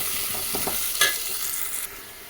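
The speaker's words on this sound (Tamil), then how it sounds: "இஞ்சியவும் பூண்டையும் நச்சு எடுத்து வச்சுருக்கேன் இதையும் இதில் சேர்த்துடலாம் சேர்த்துட்டு இதையும் நல்லா வதக்கி விட்டுடலாம்" Onion, ginger, garlic and curry leaves sautéing in a pan, a continuous close sizzle with a few quick stirring scrapes, one sharper clink near the middle.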